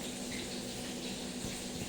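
Lukewarm water poured into cheese bread dough makes a steady, even rush that holds without a break for a couple of seconds, with no one speaking.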